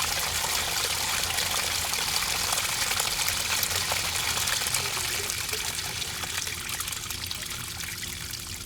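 Gray water draining from an RV holding tank, a steady gushing pour that continues throughout and eases slightly toward the end, close and fairly loud.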